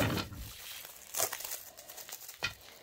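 Packaging crinkles and tears as a parcel of Quantum cross-stitch frames from Omanik Factory is opened, a few close crackly rustles with sharper crunches around the middle and end, quiet, no talking.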